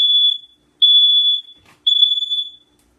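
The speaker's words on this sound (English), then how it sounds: "That's 2 weeks in a row where I've set off the fire alarm." Smoke alarm set off in a home kitchen while pot pies bake: three loud, piercing electronic beeps in a steady pattern, each about half a second long, separated by short silences.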